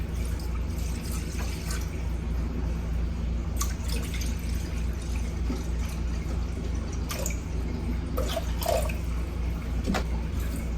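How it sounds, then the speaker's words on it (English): Water from a sourdough starter feed jar is poured into a bowl for sourdough bread dough, a soft steady trickle with faint drips over a constant low hum, with no talk. "I'm going to start adding my water."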